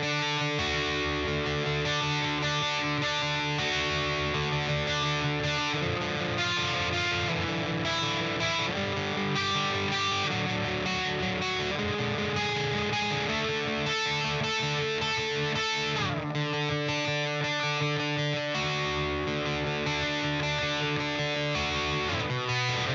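Distorted electric guitar playing the bridge section of a song, dense and loud throughout with sustained chords and shifting notes, heard alone without talk.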